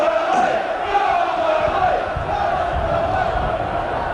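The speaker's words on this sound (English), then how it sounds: "Certainly bringing the crowd to life." Football crowd at a 1999 English league match between Burnley and Gillingham roaring continuously, a dense, loud sustained swell of voices with chanting tones filling the stadium throughout.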